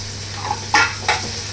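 Thinly sliced onion hits a pan of hot oil with cumin, two quick sizzling bursts and a light scrape of stirring over a low steady hum, close and fairly loud.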